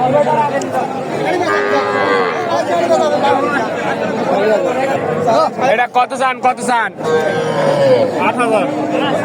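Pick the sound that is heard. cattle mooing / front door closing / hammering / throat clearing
cattle mooing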